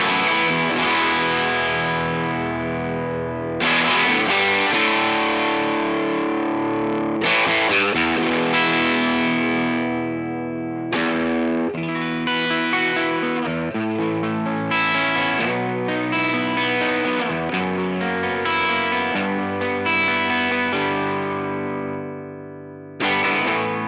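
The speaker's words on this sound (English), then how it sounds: "So this is a silver tone with a 12-inch speaker." Electric guitar played through a Silvertone amp capture with a 12-inch speaker, loud driven chords and ringing notes with effects, strummed in phrases with brief gaps, alone without talk.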